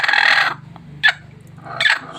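Domestic village hens brooding on their eggs on a hot day give a few short, fairly loud clucking calls: a longer call first, then two brief bursts spaced apart.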